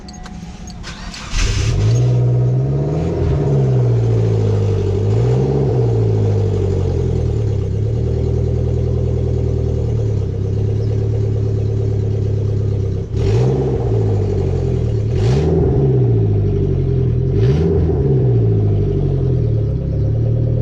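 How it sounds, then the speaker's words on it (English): A loud car engine with no exhaust starts up and idles roughly, then is revved repeatedly in short bursts, a raw, harsh roar close by. "That's what happens when your exhaust is off."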